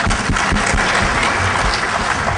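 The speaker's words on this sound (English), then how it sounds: "Everybody clap it up for Mudge" A conference audience breaks into loud, dense applause for Mudge, a continuous wash of many hands clapping close and full for the whole short stretch.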